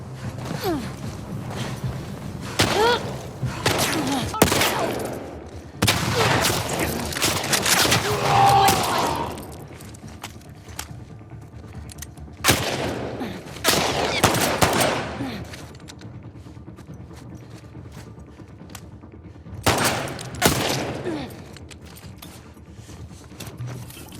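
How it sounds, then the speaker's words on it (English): Bursts of rapid video game gunfire arrive in several separate volleys, loud and crackling, with quieter gaps and some muffled movement between them. "you hear gunshots barreling right past your ears"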